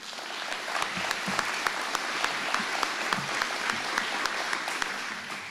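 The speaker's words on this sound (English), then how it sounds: "So please give them all a round of applause, too." Sustained audience applause for the security and force protection staff at an Army depot change of command ceremony, a dense, steady patter of many hands with a few louder claps standing out.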